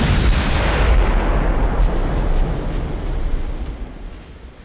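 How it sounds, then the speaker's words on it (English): Dual 15-inch naval guns fire in Ultimate Admiral: Dreadnoughts: one loud, heavy boom at the start, then a long rumbling decay that fades away over several seconds. "Star's using 15-inch guns. Dual 15-inch guns."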